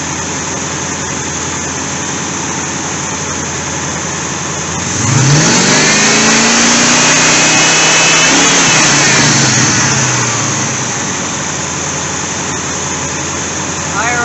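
A medium car engine, freshly fitted after carburetor work, idles steadily and then revs up for several seconds before dropping back to idle, close and loud, with someone talking over parts of it.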